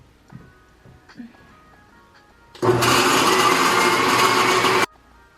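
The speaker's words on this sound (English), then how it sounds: "I'm going to puree the cucumbers in my blender" Blender pureeing cucumbers, switched on after a few quiet seconds of small kitchen clatter, running loud and steady for about two seconds before stopping abruptly.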